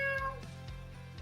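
A cat meows in a radio advertisement for an appliance store: one short, clear, fairly quiet meow standing alone.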